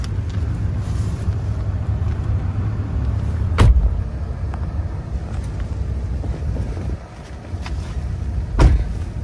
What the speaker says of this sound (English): Let's take you on a short test drive